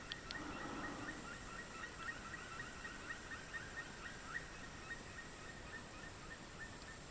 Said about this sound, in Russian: Вот тайга оживает, птицы поют.